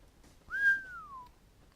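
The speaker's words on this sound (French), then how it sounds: "il faut pas que je siffle, sinon ça détruit vos oreilles" A person whistles a single clear note that rises quickly and then glides slowly downward, fairly quiet and alone with no other sound.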